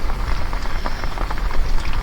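Rain falls steadily on surfaces outdoors at night on a spearfishing trip, a loud, dense patter of drops with no voices.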